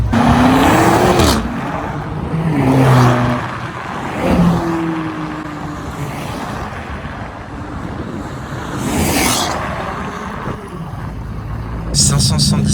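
A matte grey BMW drives past in a street convoy at Place Vauban. Its engine rises and fades in several swells, with voices and other traffic nearby.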